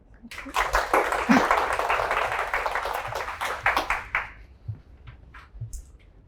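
Audience applause at a Korean forum on digital transformation after a presenter's talk, dense clapping from a crowd that swells and then thins out into scattered claps.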